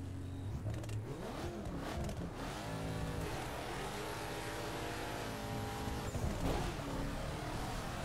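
A Saleen S7 supercar howls near its top speed of about 380 km/h, its engine note climbing and falling through gear changes under a constant roar of wind and road noise, loud and steady.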